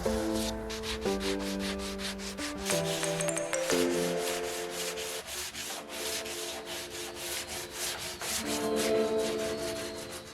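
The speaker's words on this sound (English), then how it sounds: "I then sanded the entire tabletop with 5 different sandpapers going up to 320 grit." Steady abrasive sanding across a live-edge wooden tabletop for an epoxy river desk, a continuous rubbing rasp with shifting strokes, close and fairly loud, while a tonal hum changes pitch in the background.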